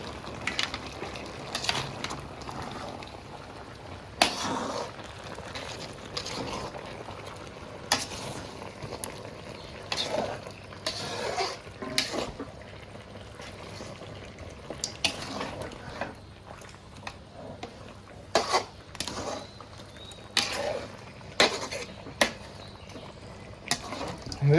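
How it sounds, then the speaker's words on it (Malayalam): Chicken curry bubbling and sizzling in a pot, with a metal spoon scraping and clinking against the sides as it is stirred and the lid handled, in repeated sharp knocks over a steady low simmer. "അപ്പം മൂടി തുറന്ന് ചിക്കൻ ഇളക്കിടാല്ലേ?"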